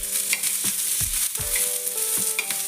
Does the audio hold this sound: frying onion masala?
yes